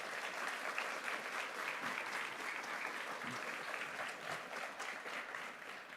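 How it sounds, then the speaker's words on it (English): Audience applause at an Army academic championship event, a steady dense wash of clapping from a crowd that holds at the same level for the whole stretch, with no talk over it. "So can we give them a quick round of applause, please?"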